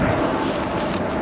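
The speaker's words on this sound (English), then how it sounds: "Oh, we're spray painting all of them." A steady, continuous hiss of a spray paint can spraying up close, loud and unbroken for the whole moment.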